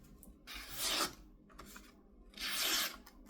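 A sharp blade of a small fixed-blade knife slices through a card in two smooth, raspy strokes, each lasting about half a second, close and fairly quiet.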